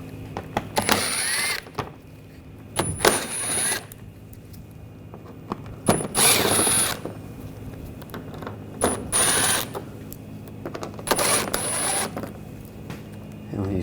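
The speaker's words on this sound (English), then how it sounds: "Using a T20 socket, we're going to take these screws out." A T20 socket on a powered driver removes screws from the front bumper area of a 2014-2020 Nissan Rogue, making five short whirring, ratcheting bursts spaced by quiet gaps with faint clinks, close by.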